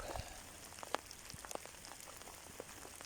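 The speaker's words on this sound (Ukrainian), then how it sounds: "тому що дощ усилюється" Rain patters on surfaces around a vineyard where grapevines are being pruned, a faint scattered pattering of drops with occasional sharper taps and no talking.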